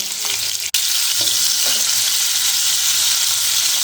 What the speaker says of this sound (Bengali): অল্প করে হাই ফ্লেমে দিয়ে ভেজে তুলে নিতে হবে